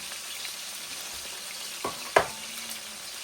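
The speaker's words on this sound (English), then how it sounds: "Getting nice and cooked up here in the pan." Ham frying in a pan, a soft steady sizzle with two brief sharp knocks of a utensil near the middle, no talking.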